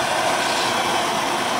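A torch heating a piece of copper gives a loud, steady, close roar of rushing flame that holds constant throughout, with no voices.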